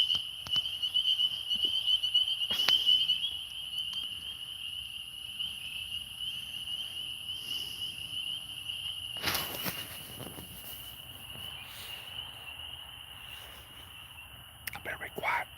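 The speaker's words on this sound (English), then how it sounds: "I better be quiet so they'll sing." A nighttime chorus of frogs and crickets outdoors, a continuous high-pitched trill that holds steady throughout, heard at moderate distance with a few sharp nearby rustles and taps breaking in.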